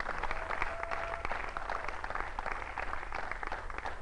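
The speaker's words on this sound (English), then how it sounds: "please help give them a round of applause again" An audience at a Farmcrowdy fourth-anniversary business event gives a round of applause for speakers, a continuous, moderately distant patter of many hands without voices.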